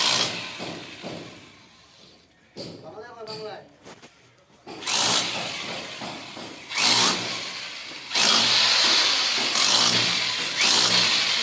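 An electric power tool cuts into a house wall to make a recess for a concealed electrical box, its loud whining bursts starting and stopping several times, with someone talking over the quieter stretches.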